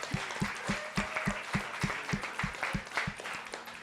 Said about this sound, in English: So everybody give her a round of applause.